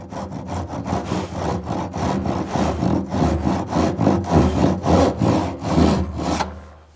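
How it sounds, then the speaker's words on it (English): Hand sawing plywood down to a line to cut out a hinge recess on a tool chest: steady, rhythmic back-and-forth rasping strokes, close and loud, with no talk. "now I'm just going to bust up the waste in between, sawing down to the line"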